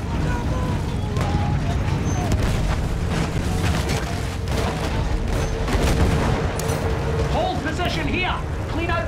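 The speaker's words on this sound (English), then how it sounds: "Those machine guns are holding our lads back!" Battlefield 1 trench combat roars continuously with dense machine gun fire, explosions and mechanical rumble, loud throughout, while voices shout over the battle.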